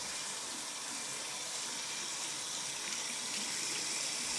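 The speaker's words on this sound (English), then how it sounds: "Adjust water to a warm temperature and thoroughly wet hands." Warm water from a tap running steadily over hands at a sink while washing, a close, even gushing hiss for several seconds with no voices.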